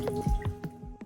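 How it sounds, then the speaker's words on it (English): Water drips and squelches from a wet mop cloth being wrung out for a MOVA L600 robotic vacuum's mop attachment, with four or five close, distinct drips and squishes spaced unevenly and no voices. "Wring it out."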